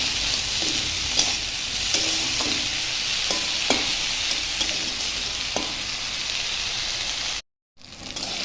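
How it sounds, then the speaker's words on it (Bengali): Eggplant pieces fry in hot oil left from frying fish, seasoned with salt and turmeric, with a steady loud sizzle and regular clacks of a spatula stirring, then a brief cut to silence near the end. "আর মাছ ভাজা তেলের মধ্যে আমি বেগুনগুলোকে দিয়ে দিয়েছি, দিয়ে দিচ্ছি নুন আর হলুদের গুঁড়ো।"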